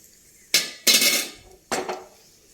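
A spoon stirs fried cashews and raisins in a pan, giving three separate bursts of metallic clattering with quiet pauses between them.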